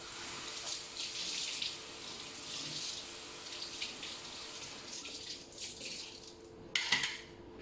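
Tap water runs and splashes steadily at a sink while rinsing after cleaning with a clay cleaning stone, with a brief louder splash near the end, close but fairly quiet, no talk.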